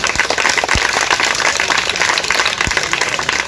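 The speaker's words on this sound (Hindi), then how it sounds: "एक बार ताली बजा दीजिए नारायण।" A school audience in Aligarh claps together during a history quiz programme: dense, sustained applause that stays steady and fairly loud for the whole stretch, with no voices over it.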